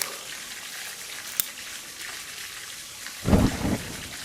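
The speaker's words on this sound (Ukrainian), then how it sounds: "підпалили, все горить" A wood fire for grilling lamb crackles and hisses softly in the open, with a brief sharp pop and a louder burst of rushing flame near the end.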